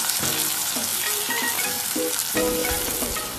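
Sliced onions fry in hot oil with garam masala over a medium flame, giving a steady loud sizzle while a utensil stirs and scrapes the pan in short strokes throughout.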